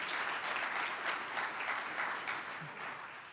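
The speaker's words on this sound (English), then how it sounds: "we deserve a hand clap after that one" An audience at a State of the City address bursts into applause, a dense, sustained clapping that carries throughout and fades slightly near the end.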